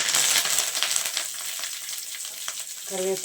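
Curry leaves frying in hot oil for a curry leaf chutney, a dense steady sizzle with crackles and pops, loud and close, with a few clinks of a stirring utensil.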